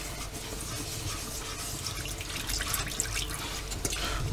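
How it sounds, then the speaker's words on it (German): Water trickles gradually into a fufu flour and salt mixture, a soft uneven pouring and splashing close by with light handling sounds and no talking. "geben jetzt nach und nach immer ein bisschen Wasser hinzu"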